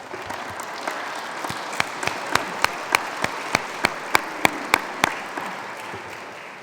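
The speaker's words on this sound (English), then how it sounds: "Let's applaud that." An audience at a Louisville civic event applauds, with a soft crowd clapping bed under a run of sharp, evenly spaced individual claps near the microphone that builds and then fades out.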